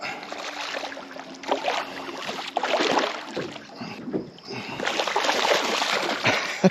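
Hooked barramundi thrashing and tail walking at the surface while topwater fishing in winter, with bursts of splashing and spraying water near a boat over steady wind noise.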